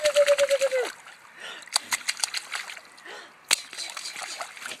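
A child splashes in water with a series of short, sharp splashes and sloshing, mixed with a high voice and an adult talking nearby.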